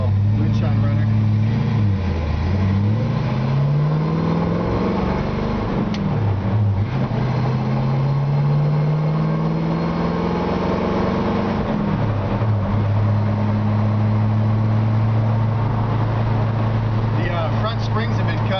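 A 1948 Ford Business Coupe built as a moonshine runner on an S10 chassis drives along with a loud, steady engine drone that rises and falls through gear changes, heard from inside the car with wind and road noise.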